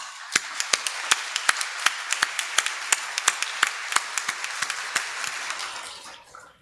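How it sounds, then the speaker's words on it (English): At a commencement ceremony, applause for graduates comes as crisp, distinct claps from a small group, close and regularly spaced, thinning out toward the end. "Please give them all a round of applause."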